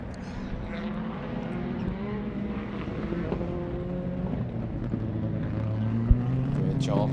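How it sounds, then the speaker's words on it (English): Rallycross supercars race around the Mondello Park circuit, a steady blend of engine drone from several cars near and far, with a sharp bang near the end and speech partly audible beneath. "just taking in the sounds of these various different supercars here at Mondello Park"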